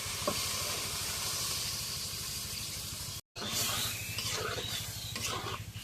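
Spice paste fries in a pan, giving a continuous loud sizzling hiss with a steady low bubbling undertone. The sound stops for a brief moment and then resumes.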